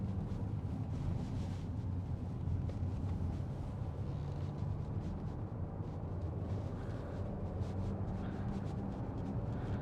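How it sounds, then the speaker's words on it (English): A 2013 Audi SQ5 3.0 BiTDi diesel with Tiptronic quattro driving along, heard as a steady low engine and road drone inside the cabin, constant and fairly quiet with no talking. "It's the sound of the engine I like more than the going fast."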